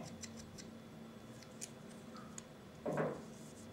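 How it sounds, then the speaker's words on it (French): Small scissors on a Leatherman Charge TTi titanium multitool making one quiet, close snip in an otherwise hushed room, preceded by faint ticking clicks. "on commence par le ciseau. Donc un petit ciseau qui coupe très très bien."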